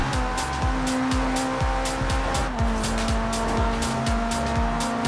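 Car tires squealing and skidding in the Forza Horizon 3 driving game, a loud continuous screech over a revving engine with repeated rhythmic bumps as the car slides.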